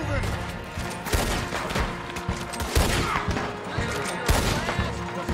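Rapid volleys of rifle and pistol fire in Red Dead Redemption 2, loud and dense bursts cracking repeatedly over several seconds, with a voice talking intermittently beneath the shooting.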